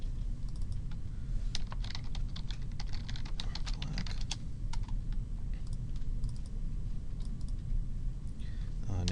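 Steady typing on a computer keyboard, with a busy run of close clicks for the first few seconds and sparser taps later, over a constant low hum while someone talks.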